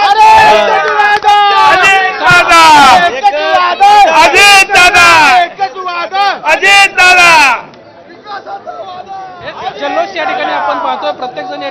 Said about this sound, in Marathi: अजित पवारांच्या कार्यकर्त्यांमध्ये जल्लोष